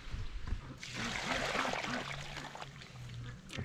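Hot water poured and drained off after scalding ducks for plucking, a splashing, trickling flow that swells and then steadies, with low tonal sounds beneath it.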